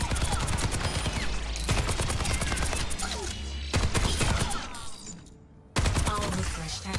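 Soldier 76's rapid automatic rifle fire in Overwatch 2 with the tactical visor active, loud sustained bursts of crackling gunshots broken by short pauses, with dense in-game combat noise.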